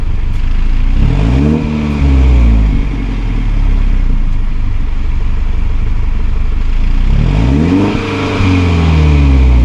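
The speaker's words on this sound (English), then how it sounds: "I wish I would have done a dual exhaust, but it sounds pretty good." A 2017 BMW 330i engine revs up sharply twice, with a rumbling single exhaust idling loudly in between, close by and with no voices.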